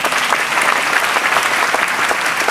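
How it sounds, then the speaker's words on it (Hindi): Loud, dense applause from an audience at a youth meet honoring ceremony in Mahuadanr, Jharkhand, a steady roar of clapping hands that fills the whole stretch without a break. "जोरदार ताली बढ़ती रहनी चाहिए"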